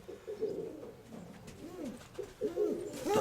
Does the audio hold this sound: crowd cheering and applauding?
no